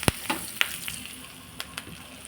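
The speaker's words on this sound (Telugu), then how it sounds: "దాంతోపాటుగా కొంత కరివేపాకు వేస్తున్నానండి" Curry leaves dropped into hot oil for tempering a green chilli pickle, giving a few short sharp sizzles and crackles that spike and fade over a quiet background, alone with no talk.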